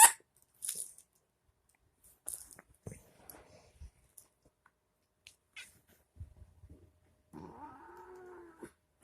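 A cat caterwauls and meows in several short, sharp bursts, with a longer drawn-out yowl near the end, while a dog shares the room and its owner calls to it between the cries.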